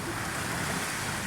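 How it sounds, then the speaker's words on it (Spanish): Sea waves wash and break steadily near a kayak on an outing, a dense continuous roar of surf mixed with wind buffeting the microphone, with no voices. "Las olas vienen de tres en tres."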